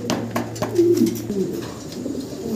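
A large male almond-coloured pigeon coos close by, a few soft throaty rolling calls over faint background noise.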